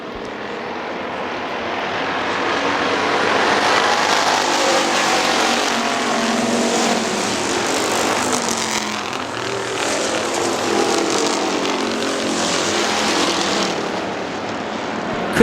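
Factory stock race cars roaring around the Hartford Speedway Park oval, a steady loud broadband engine roar filling the whole stretch, swelling and easing slightly as cars pass, with no voices.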